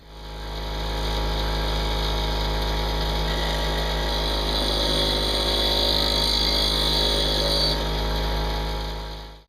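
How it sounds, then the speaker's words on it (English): Abrasive grinding as a finger hook is cut into a hand-forged knife blade on a grinder, a steady, loud continuous whir with a strong motor hum holding for about nine seconds, cutting off abruptly at the end. "I'm going to grind this out a little bit so that way there's a place to slip your finger in"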